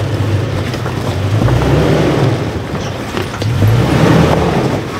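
A 2020 Toyota Tacoma 4WD running in 2WD only, its engine revving hard as it crawls over rocks on Smiley Rock Trail, a loud steady low rumble that surges twice with rising throttle.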